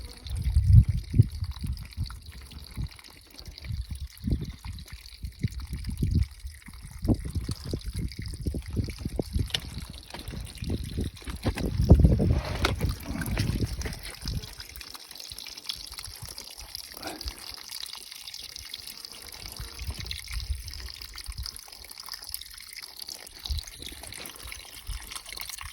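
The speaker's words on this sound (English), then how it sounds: "That is my water source. Excellent. That's a pretty good trickle." Water from a stream trickles and gurgles steadily nearby, with splashy bursts early on and a softer continuous flow later, heard alone without talking.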